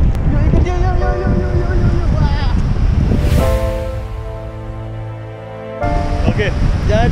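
A boat motor drones steadily on open water heading to Nusa Kambangan, amid wind noise and splashing, with people talking nearby over it.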